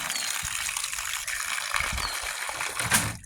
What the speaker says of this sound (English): Sounds like we got water.